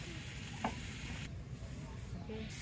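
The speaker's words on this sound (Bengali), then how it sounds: "এই যে সবজি কষানো হয়ে গেছে" Vegetables sautéing in a pan for a home-cooked jatka fish curry give off a steady, faint sizzle, with one brief clatter near the start and no voices over it.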